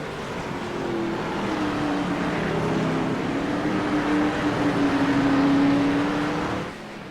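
A stock-car-style race car in a street racing game on a Chicago circuit powers past with a loud, sustained engine drone that rises and holds, then fades as it passes.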